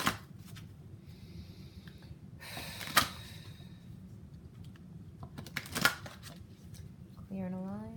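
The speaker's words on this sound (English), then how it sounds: "I'll shuffle again to see if anything else wants to come up" Tarot cards are shuffled in a series of soft riffling bursts, with two sharp riffles that stand out, while a voice speaks quietly at the very end.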